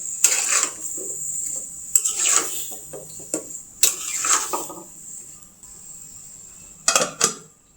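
Sweet pumpkin being stirred in a pan, with a few short scraping, clinking strokes of a utensil against the pan in separate bursts over a faint background.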